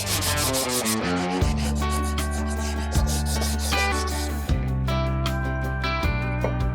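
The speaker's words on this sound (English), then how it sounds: "Now we're gonna do some hand sanding here." Steady hand sanding on aluminum Harley engine parts with 180-grit sandpaper, a continuous rough rubbing with brief dips where the strokes change, close and fairly loud, no voices.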